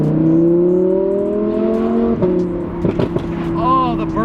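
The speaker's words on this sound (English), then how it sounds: "This is running an FI exhaust." An Audi R8 V10 with an FI exhaust revs at a car meet, a loud close rising engine drone followed by sharp snapping burbles and pops as the revs drop, with voices briefly audible.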